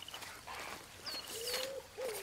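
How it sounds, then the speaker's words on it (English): Several bird calls in the wildlife video game Alba: A Wildlife Adventure, with soft hooting coos and brief whistled chirps repeating over a gentle outdoor ambience. "Birds are so loud."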